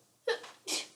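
A quiet, short sneeze-like burst followed by a second sharp exhaled burst, close to the microphone, with no talking.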